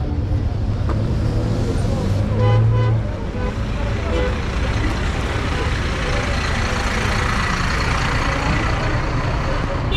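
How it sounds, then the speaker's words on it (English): Trucks at Mabopane station, a loud, continuous engine and road rumble nearby with a short horn toot early on, amid ongoing outdoor traffic noise. "And these are the trucks. There's another truck here."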